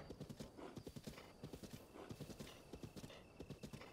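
Horse hooves clip-clop in a quick, steady gait in The Legend of Zelda: Breath of the Wild, a close and continuous run of beats with a whinny rising over them.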